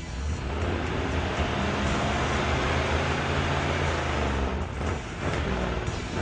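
A car engine idles and revs steadily close by, a continuous low rumble with a slight rise and dip near the end, no one speaking over it.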